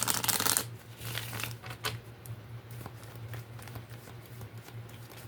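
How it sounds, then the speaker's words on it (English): A deck of tarot cards shuffled during a reading, with a quick burst of riffling up front followed by softer, scattered flicks and taps, close and quiet. "Let's shuffle."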